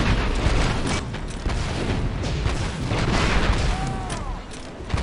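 Heavy gunfire and explosions roar through a fight with a spider droid in Star Wars Republic Commando, with dense, continuous booms and blaster bursts loud and close for the whole stretch.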